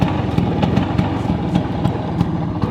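A Vespa scooter engine runs close by with a steady, rapid putter and light mechanical clatter, loud and without talk.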